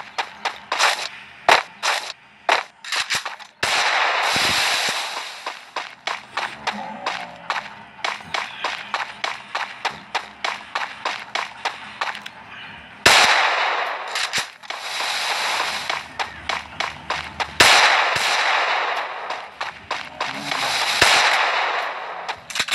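Rapid bursts of gunfire from a ballistic gun in the mobile shooter Free Fire, sharp repeated shots in quick rhythmic strings with short pauses, several long dense volleys, loud and close.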